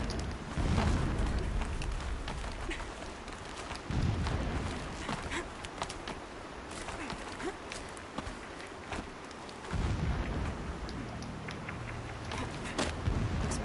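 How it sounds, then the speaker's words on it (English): Low, rumbling booms roll in from far away in the video game Horizon Zero Dawn, several dull blasts spread across a steady background of muffled noise. "Explosions in the distance."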